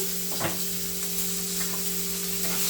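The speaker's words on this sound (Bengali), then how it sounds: "পেঁয়াজ টমেটো কাঁচা লঙ্কা সুন্দর করে ভাজা হয়ে গেছে" Chopped onion, tomato and green chilli fry in a pan with a brisk, continuous sizzle, marked by a quick scrape of stirring early on and no talking.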